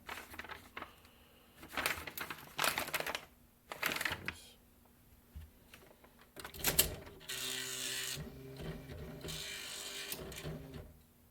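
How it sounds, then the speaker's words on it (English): A typewriter being typed on up close, with bursts of clacking keystrokes separated by short pauses, a carriage-like mechanical ratcheting toward the end, and no talking. "My typewriter, one of them. I have some paper here ready to go."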